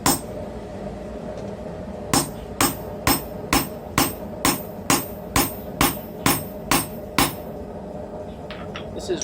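A hammer strikes a hot cutting chisel with an uneven bevel in a blacksmithing setting, landing about a dozen sharp, ringing metallic blows at a steady, even rhythm close by.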